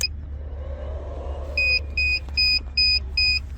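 A LVYUAN modified sine wave inverter in E-5 overload sounds five short, sharp electronic beeps in a regular pulse over a low steady hum, loud and close.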